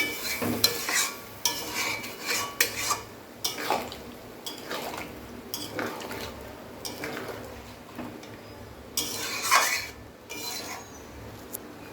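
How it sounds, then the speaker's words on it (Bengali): A spoon stirs mutton curry in a pot just after mutton stock goes in, giving intermittent scraping and clinking strokes over a faint simmer. "দিয়ে আমরা হালকা করে নাড়িয়ে দিচ্ছি"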